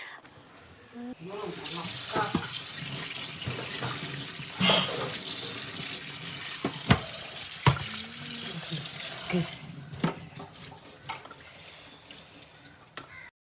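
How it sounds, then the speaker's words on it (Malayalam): Brain cooking in a pan on a stovetop gives a steady broadband sizzle with running-water-like hiss, broken by occasional clatters and soft knocks of utensils, with no speech. "അപ്പോൾ താടെ അടുപ്പിൽ തലച്ചോറ് നല്ല രീതിയിൽ ഇങ്ങനെ വേവുന്നുണ്ട്"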